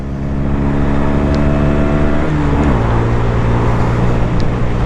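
A 2022 or later Honda Grom small-displacement motorcycle accelerating on a top speed run. A loud, steady engine drone with strong wind rush climbs in pitch, dips briefly at a gear change, then settles into a higher steady tone.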